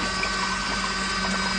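A DC brushless surface solar pump rated 250-350 W at 24-36 V, running off solar panels and pushing water out through a one-inch outlet, gives a steady, close, continuous hum with a faint rush of flowing water.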